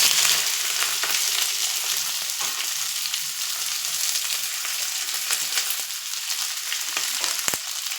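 Curry leaves, onion and green chillies fry in hot oil with a close, continuous sizzle, occasional crackles and stirring taps, and no voices.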